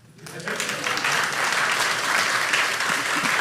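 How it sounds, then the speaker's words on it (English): An audience at a Flower Communion service breaks into steady, dense clapping that swells within the first half second and holds loud and even throughout. "You can clap, it's okay."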